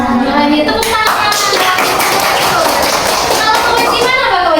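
Schoolchildren clap together in a primary classroom during a civics lesson, a dense, steady burst of hand claps lasting several seconds with young voices mixed in.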